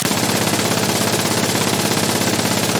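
An MG3 machine gun fires in Insurgency: Sandstorm, a loud, sustained burst of rapid, evenly spaced shots with no pause.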